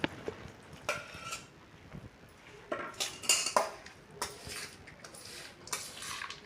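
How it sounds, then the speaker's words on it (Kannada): Peanut mixture being stirred into hot jaggery syrup in a pan for Panchami peanut laddoos, with a series of close metal clinks and scrapes against the pan at an irregular pace, and no voices. "ಅದನ್ನು ಪಾಕ ಹಾಕ್ಕೊಂಡು ಮಿಕ್ಸ್ ಮಾಡ್ಕೊತೀನಿ ನೋಡಿರಿ"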